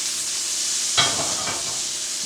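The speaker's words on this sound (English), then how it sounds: "melt that a little more and then throw our rosemary into that butter" Rosemary hits melted butter in a pan over low heat, setting off a sudden burst of crackling sizzle that settles into a steady, soft frying hiss.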